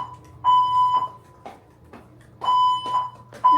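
A house fire alarm goes off nearby with loud, piercing electronic beeps: steady tones in repeated pulses, some long and some clipped, with short gaps between.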